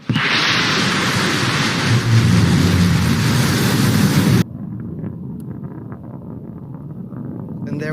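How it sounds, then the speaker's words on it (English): Blue Origin New Shepard rocket on launch from West Texas, its BE-3 engine giving a loud, broad, wind-buffeted roar that suddenly drops to a quieter distant rumble. "we can hear that BE-3 engine just roaring through the sky"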